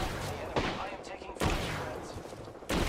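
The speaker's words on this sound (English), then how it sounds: "I am taking fire." Gunfire in the Apex Legends video game gives three sharp loud bursts against dense, steady battle noise.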